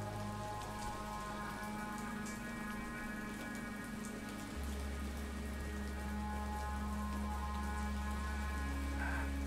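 Steady rain patters on surfaces at a graveyard, a constant soft wash with low steady hum underneath, no voices.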